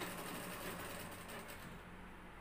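A sewing machine stitches trouser cloth in a steady, fast, continuous whir with rapid needle clatter, fairly close and alone with no talking.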